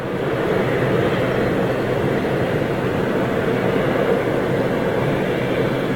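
TUI airliner departing Manchester Airport for Orlando, a loud, steady broadband jet roar that stays constant throughout, heard from a distance in freezing fog with no voices over it.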